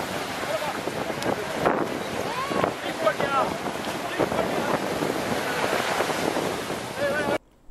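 Stand-up paddle boards and small boats out on the open sea off Chennai, from Besant Nagar toward Marina Beach, with steady wind buffeting the microphone, waves washing and water slapping throughout, a few faint voices mixed in.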